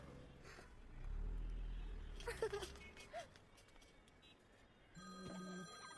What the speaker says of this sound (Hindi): फिर से फोन करा।